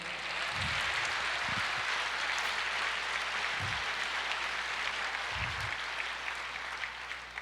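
A church congregation applauding, a dense, continuous wash of clapping from many hands that holds steady and fairly loud throughout, with a few low thumps underneath and no speech.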